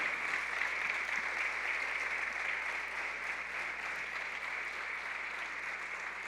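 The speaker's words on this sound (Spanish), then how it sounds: "dale un aplauso fuerte al Señor" A church congregation claps together in sustained, dense applause that fills the room evenly from start to finish without pause.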